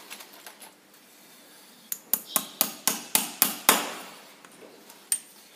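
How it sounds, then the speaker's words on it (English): A farrier drives nails into a steel horseshoe on a racehorse's hoof in a yard: about eight sharp, ringing hammer blows in a quick, steady rhythm, close and distinct, with a few lighter taps before and after. "Just putting in the nails here now."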